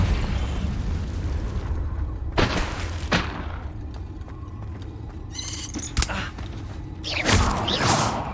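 Confringo blasting-spell explosions in Hogwarts Legacy, with a few sharp bursts and pops at intervals over a steady mechanical, creaking background rumble, moderately loud and with no talk.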